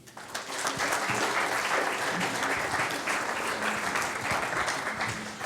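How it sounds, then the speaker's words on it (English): A seminar audience at a national forum applauds a panel. Steady, full clapping fills the room for several seconds and then begins to taper off. "Round of applause."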